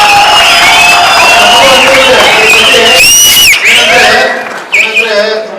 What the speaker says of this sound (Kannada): ಚಪ್ಪಾಳೆ, ಕೇಕೆ